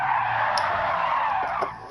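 A race car's tires skid loudly and continuously as the handbrake is pulled in Gran Turismo 7, a sustained squealing slide lasting the whole moment with no talk over it.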